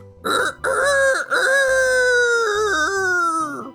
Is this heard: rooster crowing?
yes